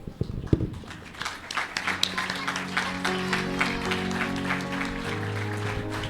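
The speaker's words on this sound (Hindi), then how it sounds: "आए सब हम फारूक के लिए तालीम बजाते हैं पहले" A congregation at a Sunday church service breaks into applause, scattered claps at first building into sustained, dense clapping, with some voices mixed in.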